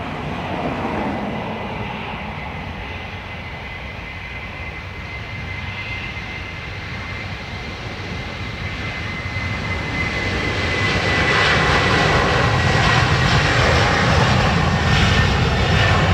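An Aer Lingus airliner bound for Boston roars on its takeoff run at Dublin Airport, a loud sustained jet engine rumble that builds steadily and grows louder toward the end.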